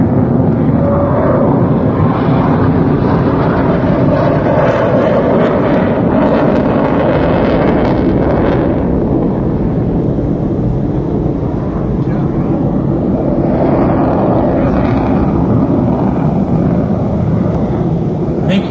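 An Indian Navy MiG fighter jet roars overhead during a naval aerial display at Sindhudurg fort. It is a loud, sustained rushing engine sound with heavy wind buffeting the microphone, and a commentator speaks over it.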